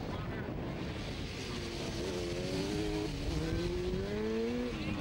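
Racing motorcycles at the Monaghan Road Races roar past, engine notes rising and sweeping by over a constant background of crowd and commentary-like talk.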